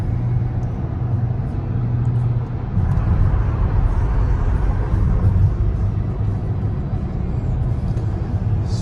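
Inside a Tesla Model S driving on autopilot as it turns: a steady, loud low road rumble and cabin hum that never lets up, with no talking.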